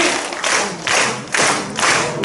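A church congregation claps together in praise, a dense wash of hand claps swelling in rhythmic bursts roughly every half second, close and fairly loud with no voices over it.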